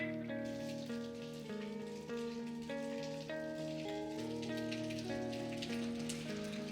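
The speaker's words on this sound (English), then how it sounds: "It's raining." Steady rain falls with a constant soft hiss from start to finish, under sustained tonal music playing throughout.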